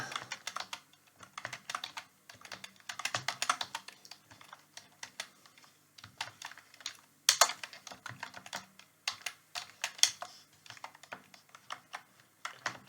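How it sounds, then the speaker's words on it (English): Rapid, uneven clicking of fingers typing on a computer keyboard, close and fairly quiet, in bursts with short pauses, with no talking. "Trying to type without looking at the keyboard."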